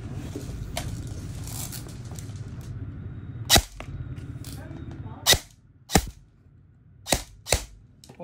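An E&C 854BCM gas blowback airsoft rifle, upgraded with a new spring and double o-ring nozzle, fires about six sharp, loud single cracks at irregular intervals over a low background hum.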